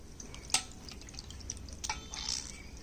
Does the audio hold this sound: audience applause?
no